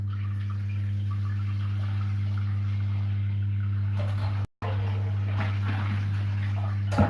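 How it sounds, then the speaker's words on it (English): A steady low mechanical hum with a strong droning tone from a well water pump motor runs continuously, broken by a brief cutout midway. "It's the pump for the water."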